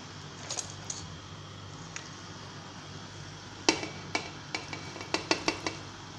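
A spoon clinks against a pot while ingredients for sarson ka saag are stirred into simmering water, a series of sharp metallic taps growing quicker toward the end over a soft bubbling hiss.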